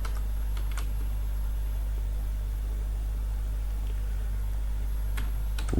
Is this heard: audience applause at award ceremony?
no